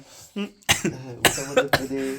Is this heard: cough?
yes